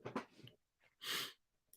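A single quiet sneeze, a short breathy burst that follows some faint breathing and snuffling, heard close but at low volume.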